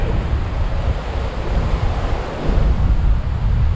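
Ocean waves roll in at Candelaria on Tenerife, a loud, continuous surf roar mixed with gusty wind buffeting the microphone, with no one speaking.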